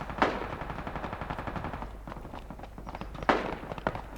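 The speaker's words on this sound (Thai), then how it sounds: "ปล่อยให้มันยิงกันไป" Rapid bursts of gunfire between players in a battle royale video game, with sharp loud shots near the start and again past the three-second mark, and busy crackling fire and footsteps continuing in between.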